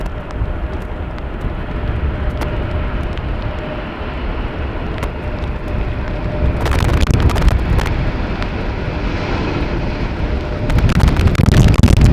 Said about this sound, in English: So here's an Embraer 190 and E2, 195 and E2 Embraer 195.